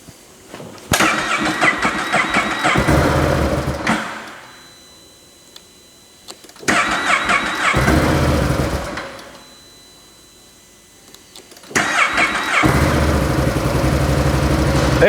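A 2025 Gen 3 Can-Am Outlander XMR 1000R ATV engine cranks and starts three times, each burst running loud and close for a few seconds before cutting out to near silence.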